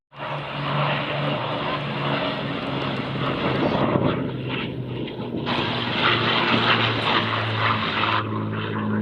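Avro Lancaster bomber of the Battle of Britain Memorial Flight passing over an air festival, its piston engines giving a loud, steady droning roar that swells and holds throughout.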